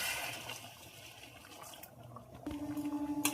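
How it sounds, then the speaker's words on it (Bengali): Hot water is poured into a pot of spiced potatoes for aloo dum, a steady rushing pour that shifts into a bubbling gurgle near the end. "জল দিয়ে দিলাম, গরম জল"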